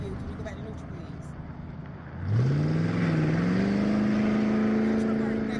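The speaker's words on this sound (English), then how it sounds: "That truck already passed by every time. That's that same truck." A vehicle on Seven Bridges Road approaches and passes, its engine rising from quiet into a loud, steady drone with a climbing then levelling whine that holds to the end, while people talk over it.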